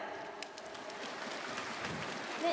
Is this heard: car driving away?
no